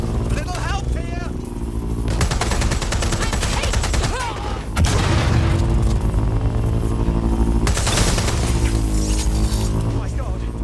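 Sustained gunfire in a Watch Dogs Legion firefight, with dense, loud volleys of shots running throughout and voices heard beneath the shooting.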